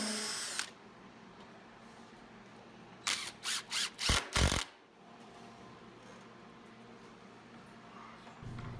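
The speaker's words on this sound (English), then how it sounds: "we're going to screw these two pieces together" A power drill drives screws into plywood in a few short, close, loud bursts of rising whine, set against a quiet workshop background.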